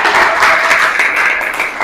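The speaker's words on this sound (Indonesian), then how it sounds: "Kita tepuk tangan dulu untuk yang presentasi ya." Short burst of steady clapping from a classroom audience applauding student presenters, dense and close, lasting a couple of seconds.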